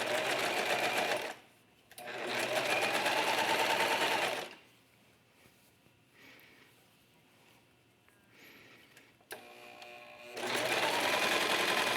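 A serger stitches raglan sweater sleeves in two loud, steady whirring runs, then a quieter stretch of fabric handling and a short buzz before a final run starts up.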